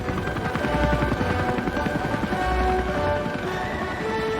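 Military helicopter spooling up on the deck of the German Navy frigate Hessen at sea, a steady loud rotor and turbine drone with a rhythmic chopping pulse throughout, no talk.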